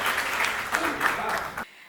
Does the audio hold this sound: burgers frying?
no